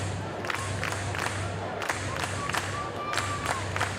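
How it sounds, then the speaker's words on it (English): A capacity crowd of fans fills a ballpark at an LSU versus Texas college baseball game, with steady crowd roar broken by repeated bursts of cheering and rhythmic clapping, loud and close throughout. "Another capacity crowd."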